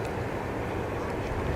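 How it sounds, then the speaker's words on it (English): Jet aircraft taxiing in after landing at Zurich Kloten Airport, a steady broadband engine rumble and whine that holds at an even level throughout, heard from a distance with no talk. "So that aircraft is going to be taxiing in."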